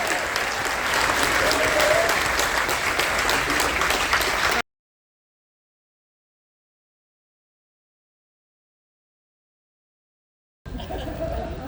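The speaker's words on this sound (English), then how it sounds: "Give them a round of applause for the canines, everybody." A cruise ship audience on the Carnival Dream applauds during a military appreciation event, loud dense clapping from a large crowd for several seconds, then a long silent gap before the applause briefly returns.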